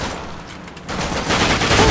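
Gunfire in The Darkness II video game, a dense, noisy rattle of shots that swells louder in the second half of a brief burst.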